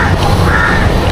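Crow cawing near a beach path in Port Dickson, a steady harsh call pattern repeating through the short stretch, close and fairly loud over a broad outdoor hiss with no talk.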